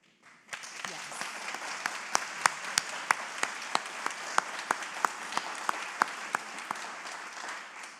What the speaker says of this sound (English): Thank you to whoever started that, because I wanted to clap for Kristen, so I appreciate it.